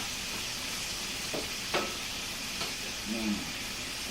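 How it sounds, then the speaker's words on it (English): Peppers placed in the center of a hot griddle to cook and caramelize give off a soft, steady sizzle with a few faint clinks of a utensil, fairly quiet and without talk. "I put them right here in the center of everything, so they can start cooking and caramelizing"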